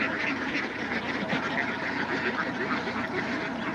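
A dense chorus of ducks quacking continuously, close and loud, with many birds overlapping throughout.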